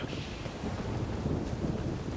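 A thunderstorm with wind in The Witcher 3: Wild Hunt: a steady, dense roar of wind and low rumble runs through the whole stretch, with no voices.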